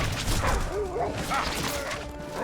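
War dogs in a strategy game give a few short yips and barks over a busy background of game noise and commentary voices.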